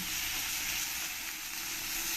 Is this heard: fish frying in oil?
yes